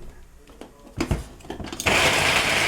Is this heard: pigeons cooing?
no